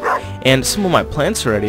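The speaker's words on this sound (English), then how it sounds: "Oh, that's my dog." A dog barks in the farming video game Stardew Valley, short yipping barks mixed in beneath a person talking over the gameplay.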